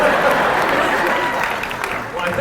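Convention panel audience clapping for a fan who just asked a question, a dense, steady wash of applause with cheering voices mixed in, sustained for a couple of seconds.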